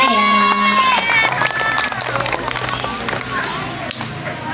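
An audience claps at an Isra Mi'raj celebration, with a dense patter of hands under loud voices and cheering throughout.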